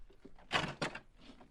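A door opening in an old-time radio drama, heard as two quick close wooden clunks of the latch and panel moving, followed by a faint softer shuffle in an otherwise quiet room.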